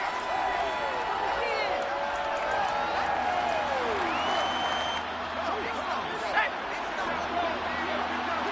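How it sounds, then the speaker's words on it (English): A football stadium crowd shouts and murmurs while watching a replay, a broad continuous roar of voices under close commentary. "Plenty of shouts from this crowd as they watch the replay."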